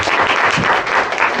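Church congregation clapping together at a Sunday service, a dense, loud burst of applause filling the whole short moment without pause.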